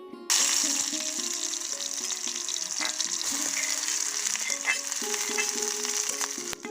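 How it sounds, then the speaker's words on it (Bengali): Chopped onion and garlic hit hot oil for a pumpkin flower dish, then a bright, steady sizzle runs throughout with faint spatula scrapes, close up and without speech. "পেঁয়াজ রসুন তেলে ছাড়ার যে একটা সাউন্ড, সেটা আমার ছোটবেলা থেকেই খুব ভালো লাগে"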